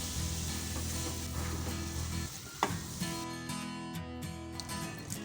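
Malabar spinach being stirred with turmeric, salt and spices in a hot pan, a steady close sizzle with scraping stirs and a few louder clinks of the spoon against the pan, no talking.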